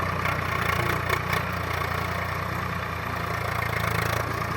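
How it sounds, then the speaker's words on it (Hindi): A farm tractor ploughing a dusty field gives a steady, close engine drone at an even idle-like pitch, running continuously with no talk. "देखिए ट्रैक्टर के पीछे बहुत धूल उड़ रही है।"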